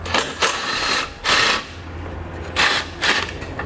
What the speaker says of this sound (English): remove the 10mm head bolt located behind it